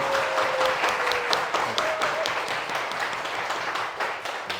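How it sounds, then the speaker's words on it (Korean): Audience clapping at a church worship and testimony gathering, a moderate wash of many hands applauding steadily for a few seconds, with some other indistinct sounds in the room. "하나님께 감사의 박수 올려드릴게요."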